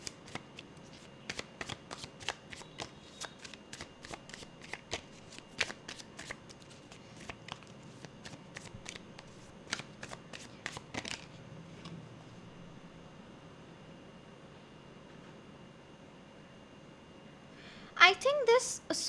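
Tarot and oracle cards are shuffled by hand in a quiet room, a run of crisp riffling flutters and taps in bursts, then a pause before a final close shuffle.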